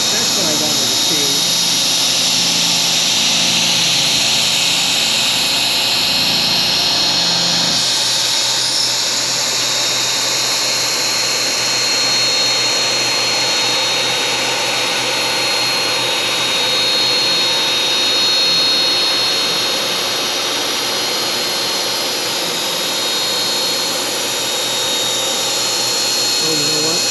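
A CNC router spindle whines at high pitch as it runs a tool path through wood while making wooden underliners for cast iron griddles, a loud continuous close-up cutting noise that shifts slightly as the bit moves, with someone talking over it early on.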